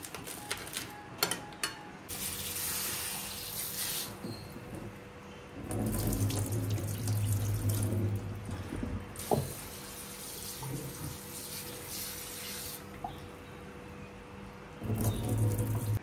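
Tap water runs into a kitchen sink while cooking ingredients such as shallots are rinsed for a fish tenggiri masak lemak cili padi, the flow surging loudly in bursts with quieter handling and clinks between.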